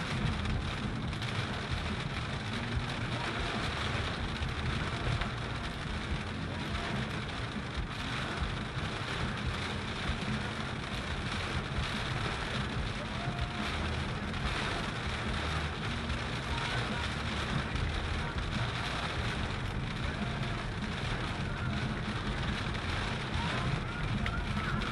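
Steady, heavy rain hisses without a break for the whole stretch, heard from inside a Hyundai Kona electric car while driving, with a voice talking now and then beneath the downpour.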